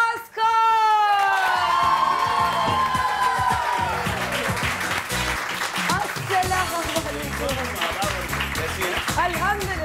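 Studio audience at a morning television show breaks into sustained applause with cheers and whoops to welcome a guest, starting after a brief drawn-out sung or shouted note and continuing loudly throughout.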